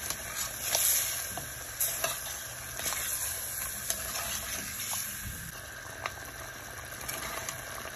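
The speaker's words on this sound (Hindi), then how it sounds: "दही डालने के बाद चूल्हा तेज करना है और तेज चमचा चलाना है ताकि इसकी गुठलियाँ ना बने।" Spoon stirring yogurt through chicken curry in a pot over high heat, a steady wet sizzling and bubbling with soft scrapes and clinks against the pot, fairly quiet and continuous throughout.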